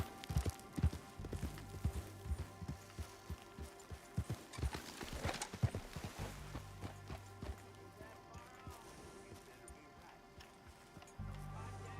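A rented horse in a video game trots along, its hooves clip-clopping in quick, uneven bursts at close range, then slowing and fading over a soft game music bed.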